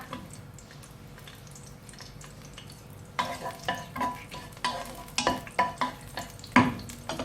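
Chicken with chili is stir-fried in a pan, starting with a low sizzle before brisk scraping and stirring strokes begin, a rapid series of clattering, sizzling tosses that grows louder toward the end.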